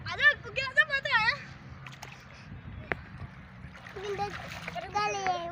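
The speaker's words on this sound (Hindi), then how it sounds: "बच्चे जो है कैसे नहा रहे हैं, एंजॉय कर रहे हैं पानी के अंदर" Children bathing and playing in water at Mirwah, Fatima Town, with splashes under lively kids' voices and adults talking throughout.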